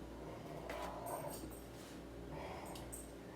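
Cooper the dog lets out soft, low growling grumbles while playing indoors, close and fairly quiet, with short snorts and rustling over a steady background hum.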